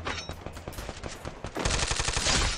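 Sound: gunfire in the video game Garena Free Fire

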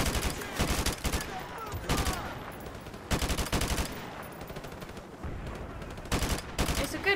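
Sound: gunfire from a gun in video game Call of Duty 4 Remastered

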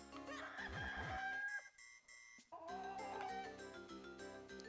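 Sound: cuccos (chickens) clucking in the video game Zelda: The Minish Cap

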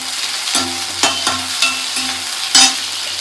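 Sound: sautéing in a pan

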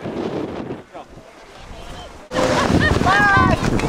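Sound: wind blowing on a cold day

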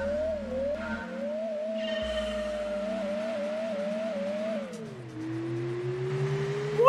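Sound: car engine revving in Gran Turismo 2 video game, Mazda Demio race

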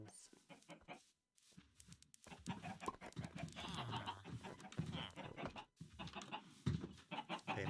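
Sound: chickens clucking in a video game

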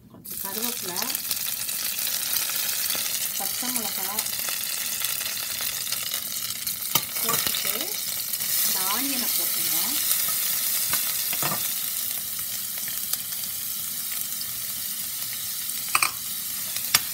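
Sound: whole spices sizzling in hot oil

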